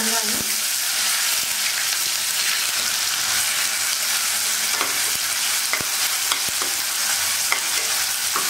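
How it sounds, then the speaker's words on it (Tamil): Cumin seeds and fresh curry leaves sizzle in hot oil for pepper chicken, a continuous bright crackling fry with occasional sharper pops and spoon clicks. "எண்ணெய் நல்லா சூடேறினதும் சீரகம் போட்டுக்கணும் கருவேப்பிலை"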